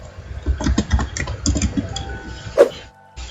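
Typing on a computer keyboard of a PC or laptop: a steady run of close, crisp key clicks with a slightly uneven rhythm, stopping near the end.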